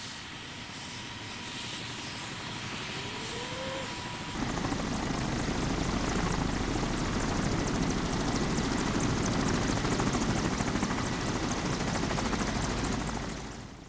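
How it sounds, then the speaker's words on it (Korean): Firefighting helicopters sit gathered on a riverside flat by the Taehwa River in Ulsan, waiting to take off. Their loud, steady rotor and engine roar fills the air throughout and swells partway through, with no talk. "진화 헬기들이 울산 태화강 둔치에 모여 이륙을 기다리고 있다."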